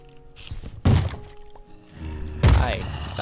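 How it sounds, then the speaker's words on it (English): Heavy banging on a door in the video game Minecraft: two loud, booming thuds about a second and a half apart, each with a rattling crack, over quiet background game sounds. "stop banging on the door"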